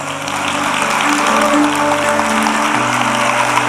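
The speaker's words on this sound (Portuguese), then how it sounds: "Você pode aplaudir ao Senhor por isso?" Church congregation at a Sunday morning celebration service applauds, a steady mass of clapping laid over sustained music tones that hold throughout.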